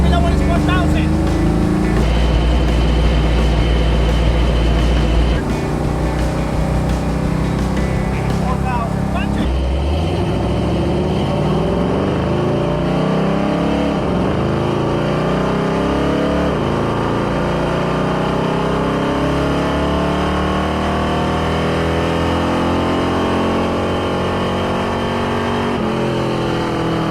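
An off-road truck engine revs hard on a dyno, a loud continuous roar that climbs and shifts in pitch over time, with people talking above it.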